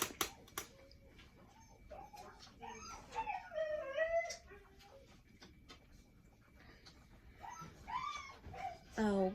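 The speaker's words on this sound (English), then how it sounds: "the dog is gonna whine" A dog whines in a thin, wavering way, with short rising whimpers coming and going in a quiet home while a person talks softly nearby.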